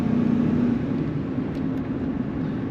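Engine of a 2000 Chevrolet Silverado 2500HD extended cab truck pulling steadily after a transmission kick-down, a low, fairly quiet sustained drone heard from inside the cab with no talk over it.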